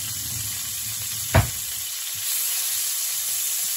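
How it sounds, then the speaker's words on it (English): Butter sizzles and melts in a pot over very high heat, a steady hissing fry that stays even throughout, with a single brief knock near the start. "So I'm going to add some butter to my pot. I'm going to allow the butter to melt."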